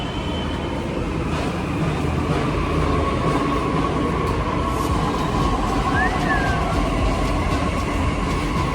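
A Delhi Metro train running steadily, with a continuous close rumble and rail noise throughout and a brief high squeal near the end, with no talking.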